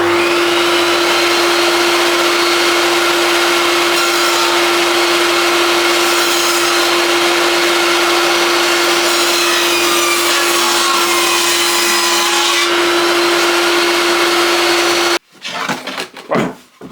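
Power saw ripping wooden boards lengthwise for a National beehive brood box, a loud continuous motor whine with a steady cutting roar that stops abruptly near the end, followed by some clattering handling sounds.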